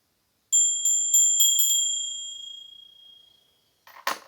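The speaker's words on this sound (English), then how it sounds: "Let's ring the bell to just open this reading." A small bell struck five times in quick succession, bright ringing tones that sustain and fade, followed by a short rustling handling noise, opening a tarot reading in a quiet room.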